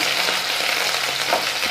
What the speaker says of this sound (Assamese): ৰংচোৱা হোৱালৈকে ভাজিম।